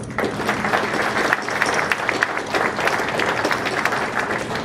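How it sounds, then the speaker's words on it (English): Sustained, dense applause from an audience at a college recidivism program celebration honors Ken Lassiter, a crowd's clapping rolling on evenly and fairly loud from start to finish. "I'd like a big round of applause for Ken Lassiter"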